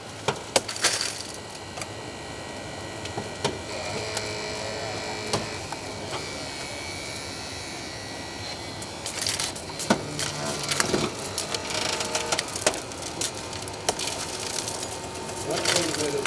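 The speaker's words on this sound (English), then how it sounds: "So the tool in this firefighter is using is called hydraulic trimmer or what?" A firefighter's hydraulic cutting tool at a fire station open house crunches and splinters through material in repeated bursts, with mechanical whirring between cuts under nearby crowd chatter.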